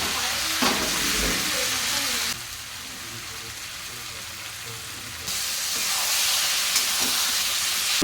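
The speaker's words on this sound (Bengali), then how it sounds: "আর এই যেখানে ধনে জিরার গুঁড়ো দিয়ে দিলাম" Ground coriander and cumin sautéing in a kadai, a loud close sizzle and stirring scrape that drops quieter for a few seconds midway, then swells again.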